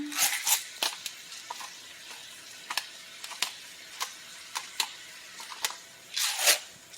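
Spoon stirring salt and pepper into a pot, a run of sharp scraping clicks and taps against the pot at an uneven pace, with a longer scrape near the end.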